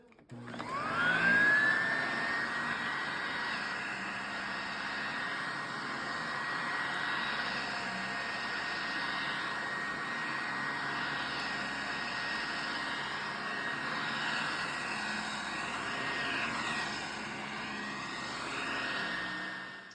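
A German-made vacuum cleaner running steadily across a floor, a loud whining motor drone that rises in pitch at start-up and then holds a constant hum.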